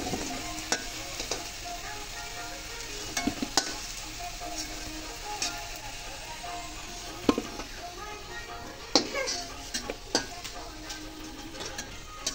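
Potatoes fry in a pan with a soft, continuous sizzle. Scattered clicks and scrapes of stirring break through it, and quiet talk sits in the background.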